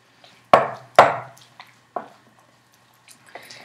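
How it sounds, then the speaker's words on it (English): A spoon mixing a thick Charleston cheese dip with diced red onion and cayenne in a bowl: a few wet squishy knocks, two louder close strokes early, then sparse softer ones. "So I am just mixing this up"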